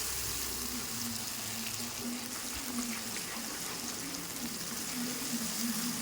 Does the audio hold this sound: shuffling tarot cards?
no